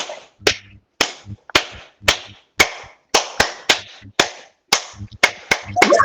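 Sharp, close hand claps ring out one at a time in a steady slow rhythm, about a dozen in all, each followed by a brief room echo, with no voices.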